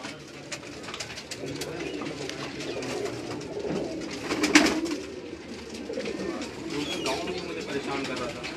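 Pigeons on a city rooftop coo and flutter in a short burst midway, amid steady outdoor background noise and a voice talking nearby.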